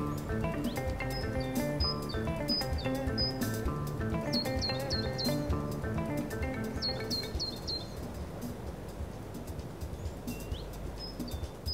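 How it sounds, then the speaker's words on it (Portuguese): Small birds chirp and sing in short repeated high phrases in a quiet corner of a city, heard over a steady bed of music or ambient tones. "onde se pode ouvir o cantar dos passarinhos"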